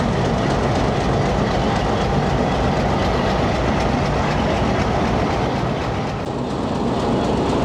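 A Hitachi HBU 208060 diesel locomotive hauls a shuttle train on a branch line, a loud, continuous close rumble with rhythmic clickety-clack of wheels over rail joints throughout.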